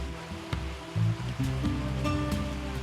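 Fresh water of a Kazakh mountain stream where a baby is being bathed rushes and splashes continuously, with a few sharper splashes and some low tonal rumble mixed in.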